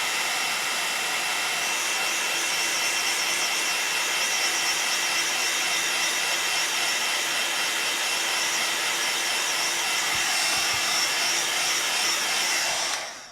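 A heat tool blows hot air to dry ink on a papercraft card, giving a steady, loud, close whirring hiss that holds evenly throughout and cuts off at the very end, with no speech.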